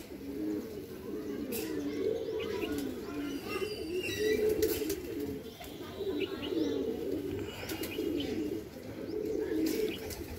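Pigeons coo steadily in the morning, a layered chorus of soft, rolling calls from a nearby flock, with faint chirps and occasional wing flutters over low background noise.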